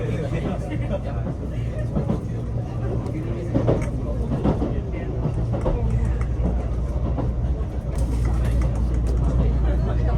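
Express train on the Iida Line running past a station, a steady loud rumble of wheels and carriage noise with faint rhythmic clatter throughout, heard from inside under an announcer's voice.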